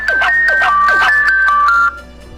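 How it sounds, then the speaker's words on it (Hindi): A 3D ringtone plays from a ringtone app on a phone: a bright electronic melody of quick repeated tones for about two seconds, loud and clear with no talking, then it cuts off. "यहाँ पे रिंगटोन्स 3D रिंगटोन्स है और बहुत बढ़िया है।"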